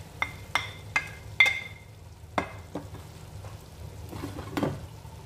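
Shrimp sauté in a pan with a soft, steady sizzle, broken by several sharp clinks of a utensil against the pan and scraping stirs near the end.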